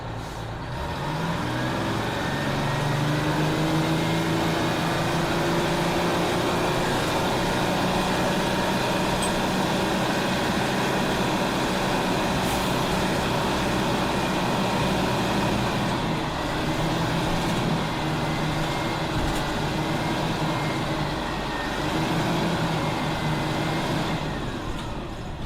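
A 1966-68 GMC New Look "Fishbowl" transit bus with a Detroit Diesel 6V71 engine and Allison VH-9 transmission runs steadily and loudly close by, its diesel drone rising and falling through the gear shifts, with no talking.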